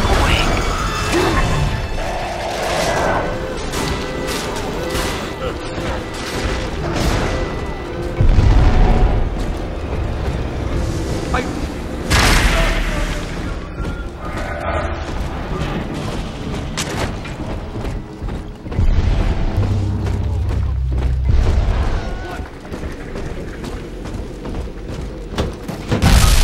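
Explosions rock the ballast compressors in the video game BioShock 2: several loud booming blasts and crashes over a dense mechanical rumble, with heavy bursts recurring through the scene.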